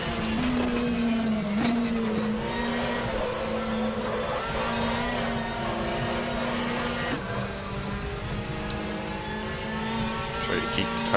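Race car engine on a fast lap in a racing video game, a steady, loud droning whine that holds a nearly constant pitch with brief dips at shifts, running continuously under a speaking voice.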